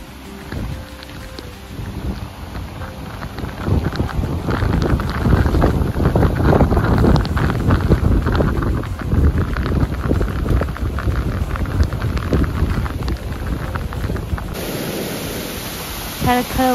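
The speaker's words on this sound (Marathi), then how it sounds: "खळखळ वाहणारा हा धबधबा इतका सुंदर दिसत होता" A waterfall gushes during a heavy downpour near the Dari Aai Mata temple outside Nashik, giving a dense, loud, continuous roar of rushing water and rain with some wind buffeting on the microphone.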